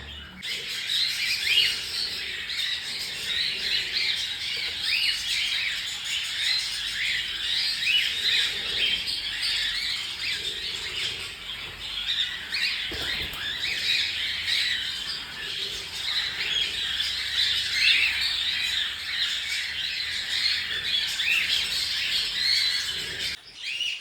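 Pet birds chirp and squawk continuously, a dense chorus of high calls at steady loudness throughout, close by and with no talking over them.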